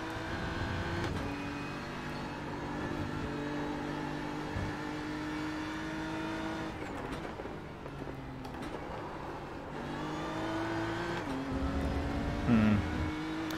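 A Porsche race car engine in the iRacing simulator at Road America hums steadily, rising and falling with throttle and gear changes over a long stretch, with a brief higher-pitched surge near the end.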